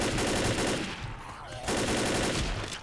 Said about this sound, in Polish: No bo ja cały czas strzelam.